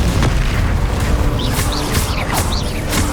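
A Confringo blast spell from Hogwarts Legacy erupts in a loud, continuous booming rumble with crackling bursts and whooshing magical trails on top, dense and close, with no talking.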